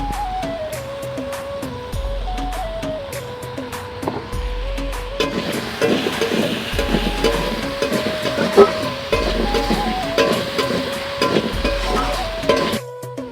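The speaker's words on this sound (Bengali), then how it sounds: "আর আলুটা তেলে ভালো করে সমরে নিচ্ছি" Potatoes fry in oil with a steady close sizzle. Repeated scraping and stirring of a pan sounds over it, and a musical tone runs underneath.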